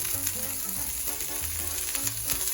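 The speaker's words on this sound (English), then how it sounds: "we're just going to saute these for about 15 minutes until the onions are yellow" Onions and Baby Bella mushrooms sauté in a pan, giving a steady, dense sizzle and crackle that holds loud and close throughout, with no voices.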